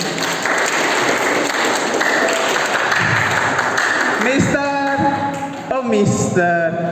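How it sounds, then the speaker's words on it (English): Loud, continuous applause fills a hall at an English storytelling performance for the master of ceremonies, and voices speak over the clapping toward the end. "Give applause to Mr. Karim."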